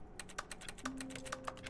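Keyboard keys clicking in The Stanley Parable video game, a quick run of about a dozen crisp, close taps in an uneven typing rhythm, heard alone with no talk.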